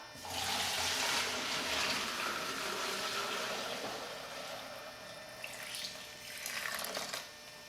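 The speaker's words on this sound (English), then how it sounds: "I'm going to pour it off." A steady stream of kombucha tea pours continuously from a container for several seconds, a broad splashing wash that eases off slightly toward the end.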